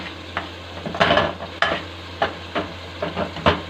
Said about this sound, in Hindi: अब थोड़ा सा हम इसके अंदर ड्राई फ्रूट मिक्स करेंगे